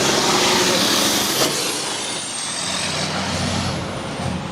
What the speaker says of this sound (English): Let that truck go by.